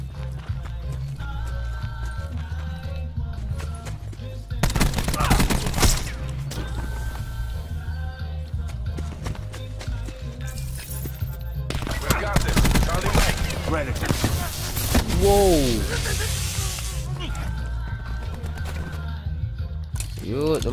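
Gunfire in Call of Duty Black Ops 4 against veteran bots, loud bursts of shots and impacts mixed with game effects and hoofbeats, while a player talks over it.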